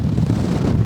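Wind buffets the microphone in a steady low rumble at the Lüderitz Speed Challenge, a brief, continuous roar with no voices.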